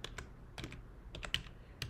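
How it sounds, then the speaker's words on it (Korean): Rapid keystrokes on a computer keyboard as an email address is typed, a quiet run of irregular clicks close by with short pauses between bursts. "부 계정 메일의 이메일 주소를 한번 입력해 보겠습니다"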